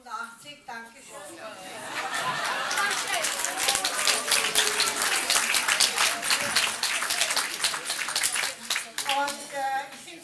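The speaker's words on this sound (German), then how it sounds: "vielen Dank für den Applaus" An audience applauds at an opening speech, dense steady clapping that swells and fills the room for several seconds before thinning out, with faint chatter mixed in.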